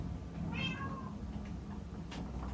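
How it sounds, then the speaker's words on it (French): A cat in the Minecraft video game gives a single clear meow, fairly faint, against a quiet steady game background with no talking. "Ça c'est le chat de Jesse"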